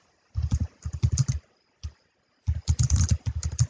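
Rapid keystrokes on a computer keyboard, close and clear, in two bursts of quick tapping split by a short pause, with no voices.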